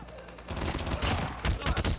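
Gunfire in the mobile shooter Call of Duty Mobile, a rapid burst of automatic shots from a Chicom weapon cracking in quick succession, loud and close, with a brief lull then more fire.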